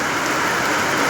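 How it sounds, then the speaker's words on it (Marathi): Sudden heavy rain falls steadily over a wheat field, a dense, even hiss of drops with no breaks, fairly loud and alone. "पाऊस आलेला आहे अचानक"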